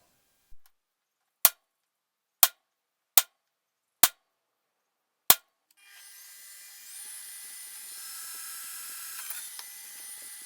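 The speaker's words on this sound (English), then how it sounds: "So let's go and drill that and see how we go." A few sharp mechanical clicks sound one by one, then a drill starts whirring steadily into a metal knife part, a high continuous grinding whine up close.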